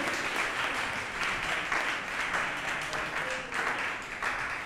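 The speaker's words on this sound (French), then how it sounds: "On applaudit très fort pour Anas Seko," Sustained audience applause at a ceremony where attendees receive certificates, dense steady clapping from many hands filling the room without pause.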